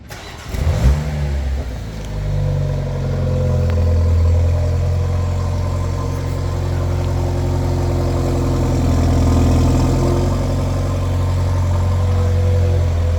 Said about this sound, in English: We're gonna hear the startup sound while we're in go-kart mode